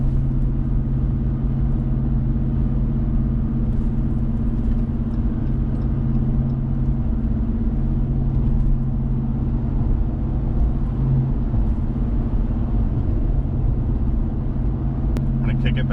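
A Ram 1500 pickup with a 5.7L Hemi and Borla S-Type catback exhaust cruises at 70 on the highway, giving a steady, constant low drone with road rumble throughout.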